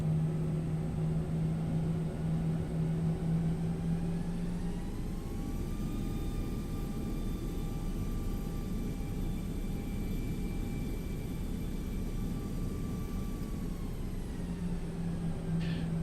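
Steady roar of the CFM engines on an FSLabs A321 airliner in Microsoft Flight Simulator, a continuous loud drone with a rising whine that holds, then eases back down near the end.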